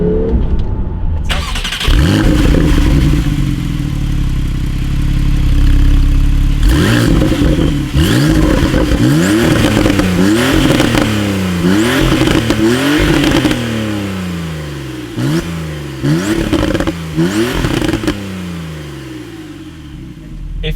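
Manual Porsche 991.2 Targa 4S with PSE sports exhaust starting and revving hard, repeated sweeping rises and drops in pitch, loud and close with a brief gap near the end.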